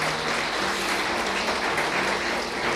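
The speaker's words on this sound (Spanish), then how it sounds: "¿Cuántos le dan un aplauso al Señor?" A church congregation applauds during a service, a steady wash of clapping from many hands, even and sustained with no voices standing out.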